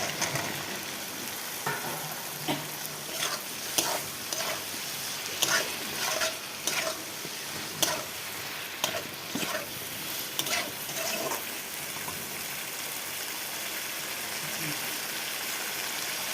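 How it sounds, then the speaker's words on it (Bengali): Potatoes stirred and fried in a pan of cooked-down spice paste, soft sizzling with irregular scraping and clinking strokes for the first half, then a quieter continuous fry. "মশলাটা কষানো হয়ে গেছে, তো দিয়ে আলুটা দিয়ে দিচ্ছি।"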